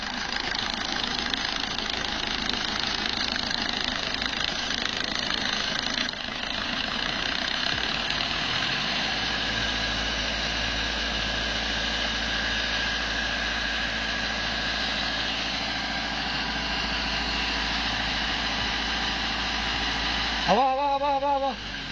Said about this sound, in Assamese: এইটো হৈছে ইঞ্জিন আৰু একদম স্মুথ, চাউণ্ডলেছ টাইপৰ।